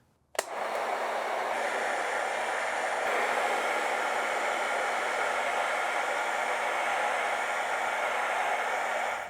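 A heat gun or hair dryer switches on with a click and then blows a loud, steady, close whooshing hum nonstop while heating scored leather.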